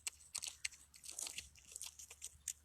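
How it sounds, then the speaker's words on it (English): Wildlife center ambassador animal chewing food, close and fairly quiet, with sharp irregular crunches and bites in a quick uneven rhythm, no talking. "the crunching sound makes your heart melt"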